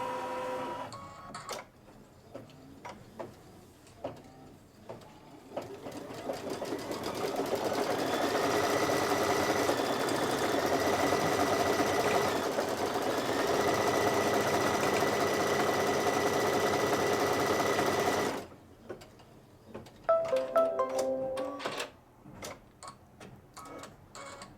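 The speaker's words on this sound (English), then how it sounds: "Now it wants to stitch the chick feet and it needs to do that." Computerized embroidery sewing machine stitching chick feet on a quilt block, a rapid, even mechanical whirring and ticking that runs steadily for about thirteen seconds before stopping, with brief handling clicks before and after.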